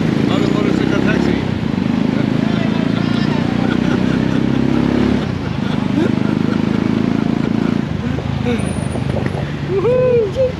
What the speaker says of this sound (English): On the motorcycle taxi.